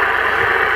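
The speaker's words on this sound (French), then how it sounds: "j'ai coupé le moteur pour le moment" A car engine running steadily before being switched off, a continuous close idle with a broad mid-range rumble and vibration, constant and fairly loud for under a second.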